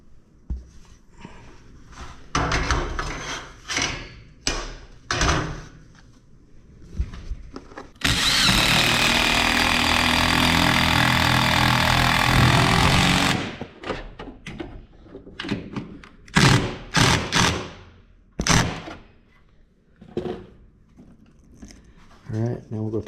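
A power driver runs a bolt into a wall for about five seconds while a garage door opener is mounted, with a steady loud whir. Clunks and speech come before and after it.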